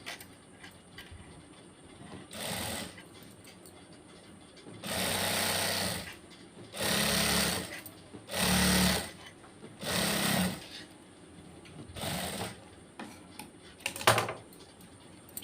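A sewing machine stitches piping on a blouse in short close bursts, about six runs of rapid mechanical rattling separated by quiet pauses, the last run broken into quick jerky stitches.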